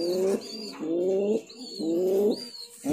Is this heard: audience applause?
no